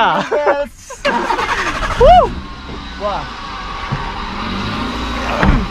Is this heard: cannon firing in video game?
no